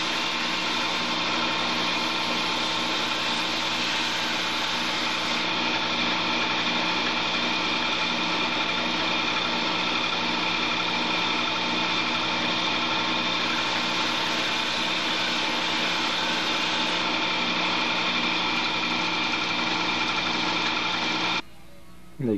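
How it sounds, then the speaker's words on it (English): A belt sander angling a wooden joint whines steadily and continuously up close, a high-pitched motor drone with a grinding edge, stopping abruptly at the end. "I need to put a little bit of an angle in the top joint, so I'm gonna do that with the belt sander"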